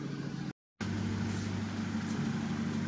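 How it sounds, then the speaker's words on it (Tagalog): Toyota Hilux idling with a full straight-pipe exhaust and no resonator, a steady, deep rumbling drone broken by one brief dropout before it resumes. "Full straight pipe. No resonator."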